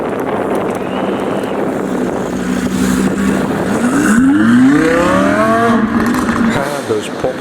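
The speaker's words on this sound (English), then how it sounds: "This is the perfect road to do some launch control." An Audi R8 V10 launches under launch control on a road, its engine rising in pitch as it accelerates hard, heard through heavy wind noise with people talking over it.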